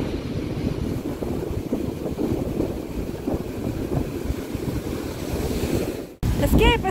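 Ocean surf on a beach in Bali, a loud continuous wash of breaking waves with heavy wind buffeting the microphone, briefly cut off near the end before resuming.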